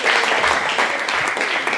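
Audience applauding at a triathlon club event honoring members of Club Triatlón Albacete, a steady, dense burst of clapping filling the short stretch, fairly loud and close, with no talk over it.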